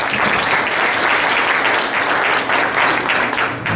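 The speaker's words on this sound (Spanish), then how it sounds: "Pues un aplauso para el profesor Ignacio Pacheco." An audience at an indigenous shelters forum in the Sierra Tarahumara applauds a professor, with dense, loud, sustained clapping from many hands that fills the space without a break.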